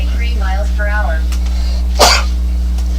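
A man sneezes once, a single sharp burst outdoors at a chilly wiffle ball game in the Vegas desert, just after a voice speaks over a steady electrical hum.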